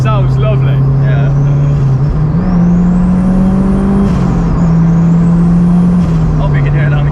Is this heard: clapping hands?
no